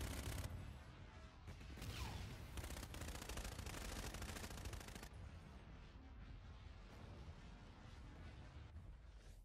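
Sustained gunfire in a video game: a dense, rapid automatic barrage lasting several seconds, then fading into quieter background rumble with scattered distant shots.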